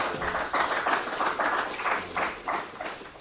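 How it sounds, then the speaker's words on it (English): Moderate audience applause rises for teaching assistants at a platoon's capstone presentation, a patter of hand claps in loose bursts at middling loudness across a few seconds. "just have a round of applause for the TAs"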